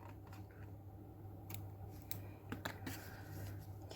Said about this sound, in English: when you're happy, again, you'll just snip your yarn